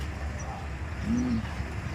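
Pigeons coo once in a single low, rounded call, over a steady rumbling background with faint mixed noise and no talk.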